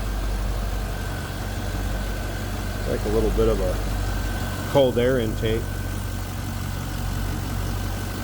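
A 2000 Chevrolet Corvette convertible with an aftermarket AFE cold air intake idles in a steady low rumble throughout, with someone talking over it briefly in the middle.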